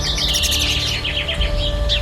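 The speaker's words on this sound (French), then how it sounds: "des rossignols, des rouges-gorges, des chardonnerets, des fauvettes et toutes sortes d'oiseaux qui chantent" Several caged songbirds, nightingales, robins, goldfinches and warblers, sing together in a steady overlapping chorus of bright chirps and trills over a low background hum.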